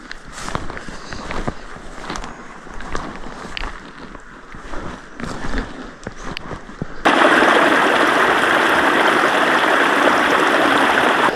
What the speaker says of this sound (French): c'est pas le ruisseau principal, c'est une petite veine qui s'égare du ruisseau principal